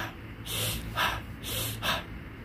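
A person breathes in sharply through the mouth and pushes air out through the nose, repeated twice in a steady rhythm of four close breath sounds with no talking.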